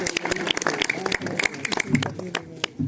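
Scattered hand claps from the audience at a junior pigeon-flying tournament ceremony, irregular and fairly close, mixed in with someone talking over them.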